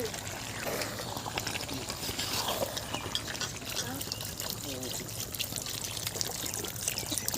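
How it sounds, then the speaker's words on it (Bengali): Water poured into a pot of home-style yogurt chicken curry with potatoes and country chicken, a soft steady trickle running under constant kitchen background noise. "খুব বেশি জল দেব না, অল্প দেব"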